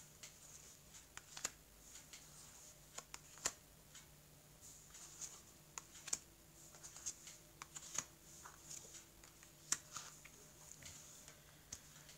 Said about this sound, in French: je vais couper le jeu, je vais recouvrir les cartes ici.